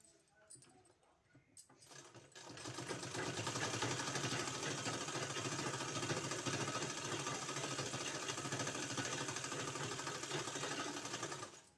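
A sewing machine stitches a kurti sleeve, starting after a few light handling taps and then running in a steady, fast, even whir close by for most of the stretch before stopping.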